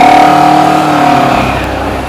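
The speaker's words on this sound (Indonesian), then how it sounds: "itu suara motornya Den Boy pulang" A motorcycle pulls up at a house, its engine note steady and fairly loud before easing off toward the end; no one speaks.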